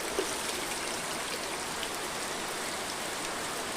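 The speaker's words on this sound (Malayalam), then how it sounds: "മഴയാണ്" Steady, dense rainfall during a flooding downpour at a house, a broadband even hiss of falling water that neither builds nor fades, with no voices over it.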